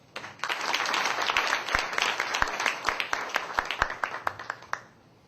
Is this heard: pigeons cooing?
no